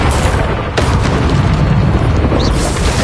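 A Confringo spell blast in the Hogwarts Legacy video game: a loud, dense explosive boom with a sharp crack near the start, followed by a sustained rumbling roar that fills the whole stretch.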